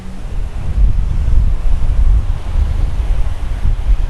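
Surf and wind on a beach in Punta Cana, a loud, rumbling wash of breaking waves mixed with gusty wind buffeting the microphone, steady throughout with no voices.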